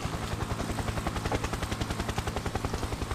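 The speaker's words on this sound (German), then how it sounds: "Da oben ist der Hubschrauber, der uns aus dem Einsatzgebiet bringt." Helicopter in the stealth video game Splinter Cell, a loud steady rotor chop with rapid regular thumping pulses throughout, close and continuous with no talk.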